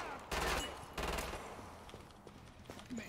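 Rapid automatic gunfire and explosive blasts from the video game Killing Floor 2 come in two loud bursts, then fade into rattling, scattered shots and lighter clatter.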